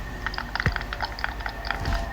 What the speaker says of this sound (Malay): Buat suruh bunyi keyboard ni.